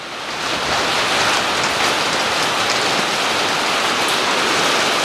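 Heavy rain pours down in a loud, dense, continuous hiss that swells in over the first moment and then holds steady.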